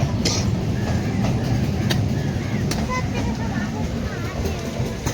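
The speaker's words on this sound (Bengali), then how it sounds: "9টা 20 ডাউন ট্রেন ঢুকলো।" A down train pulls into a station beside a busy fish market, its steady rumble and rattle running continuously amid crowd voices and talk.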